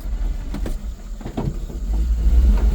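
A Daihatsu Hijet dump truck's engine labours as its wheels spin on wet ground, a close low rumble with scattered splashy bursts that swells louder toward the end.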